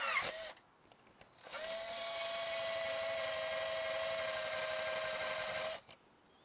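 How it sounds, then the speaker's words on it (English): A power drill whines steadily for about four seconds at close range, starting and stopping abruptly, with a brief burst before it. "let's drill this thing out"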